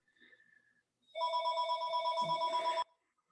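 A telephone bell rings in a steady, trilling burst lasting a couple of seconds, fairly clear and alone in a quiet room, with faint talk just before it.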